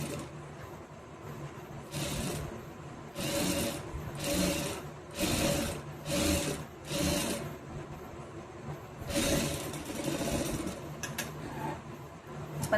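A sewing machine stitches a saree border onto a blouse back neck, running in several short quick bursts separated by brief pauses, fairly quiet and close.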